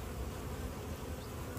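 Honey bees buzz continuously inside a hive in a dense, low drone, with no voices.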